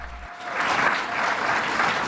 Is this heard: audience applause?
yes